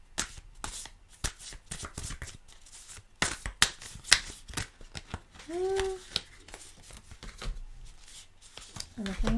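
Tarot cards are shuffled and pulled close by, making repeated crisp riffling bursts and soft slaps as cards land, with quiet talk between the bursts.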